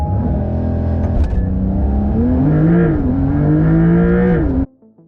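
A Porsche 911 Carrera 4 GTS of the 992 generation accelerates hard with a loud, steady engine roar, its pitch climbing through the gears for several seconds before cutting off abruptly.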